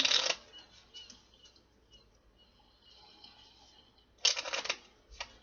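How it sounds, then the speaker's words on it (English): Tarot cards being shuffled, two short riffling bursts near the start and end with quiet pauses between, close but faint. "One more shuffle, my guides."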